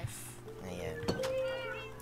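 A Minecraft cat meows in a game village, one or two short, fairly quiet meows heard under people chatting over the gameplay.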